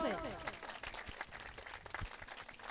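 Applause from a church audience in Lahore greeting a guest arriving on stage, a dense, steady patter of many hands with a voice briefly over it at the start.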